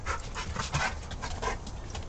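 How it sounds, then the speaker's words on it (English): A dog panting close by, quick rhythmic breaths in a steady, breathy pattern that fills the whole short stretch, with no talking. "He is such a nice dog."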